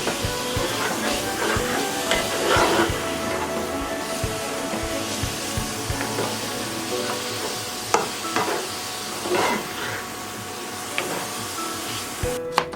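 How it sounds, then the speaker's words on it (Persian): Minced meat stirred and frying in hot oil in a pan, a steady sizzle broken by scraping, clattering stirring strokes from start to finish. "همراه 1 پاند گوشت قیمه خوب شورش میدیم، مکسش میکنیم تا که سرخی گوشت از بین بره"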